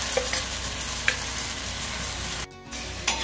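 Thalipeeth flatbread frying in oil on a pan gives a close, continuous sizzle with a few light scraping taps of a spoon, briefly dropping away for a moment before the sizzle returns.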